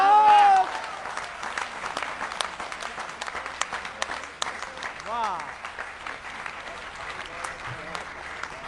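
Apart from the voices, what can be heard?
audience applause at poetry recital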